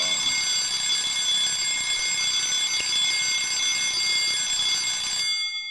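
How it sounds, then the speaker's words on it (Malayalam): An alarm clock rings in a comedy cooking scene, set to go off at 3 a.m.: a loud, steady electronic ringing with sustained tones that runs unbroken for about five seconds, then cuts off. "ഇതാരാ 3 മണിക്ക് അലാറം വെച്ചത്?"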